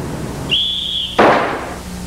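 A single sharp, steady whistle blast signalling one round of shooting at a firearms training range, held for about half a second, then cut off by a loud burst of noise.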